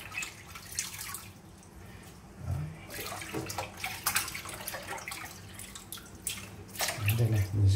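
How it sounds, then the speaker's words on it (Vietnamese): Fresh ginger root rinsed under a running tap while cooking a Vietnamese fish and mustard-greens soup: a steady splash and trickle of water with dripping and sloshing bursts that grow louder toward the end. "mình rửa thêm cả củ gừng đây"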